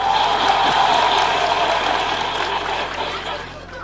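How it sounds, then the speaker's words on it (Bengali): Loud applause from a crowd of listeners fills the space as a steady, dense clatter of hands, gradually thinning and fading toward the close. "ইমোশনসের জন্য বটে জোরে হাত তালি।"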